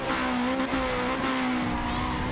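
A Toyota MR2 races in Need for Speed World, its engine droning at a steady high pitch with tire squeal and skidding, loud and continuous throughout.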